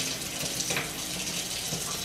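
Tap water runs steadily into a container being half-filled for starting tomato, pepper and leek seeds indoors, a continuous close hiss and splash with no talk.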